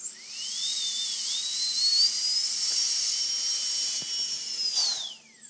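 A dental drill trims a temporary crown, its high whine rising at the start, holding steady and then winding down, close and continuous with a faint hiss beneath.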